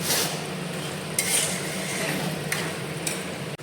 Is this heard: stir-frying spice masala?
yes